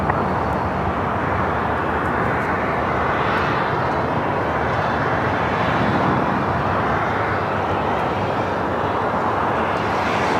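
An Asiana airliner turns left onto taxiway Lima at Los Angeles International, a steady rushing engine roar at moderate distance that swells slightly midway and carries on without talk.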